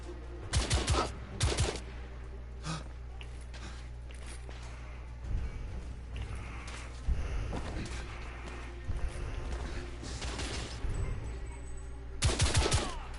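Rifle gunfire in The Order: 1886, sharp clustered shots in bursts spread across a tense firefight, close and punchy against a quieter background.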